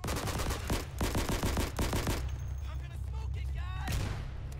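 Machine gun fire in a Day of Infamy battle comes as rapid, evenly spaced bursts of shots over about two seconds. The firing stops, and a few whistling sounds and a rumbling background follow.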